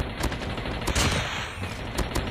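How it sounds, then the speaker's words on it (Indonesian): A chainsaw-like weapon sound effect in Call of Duty Mobile gives a dense grinding, rattling roar with sharp repeated bursts, mixed with other game action for a couple of seconds. "Dari sound efeknya ini suara gergaji ya, chainsaw mah bro."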